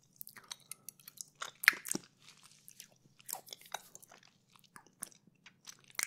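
Milk chocolate is chewed close to the mic, with wet, sticky mouth clicks and soft crunchy bites in an uneven rhythm over near silence.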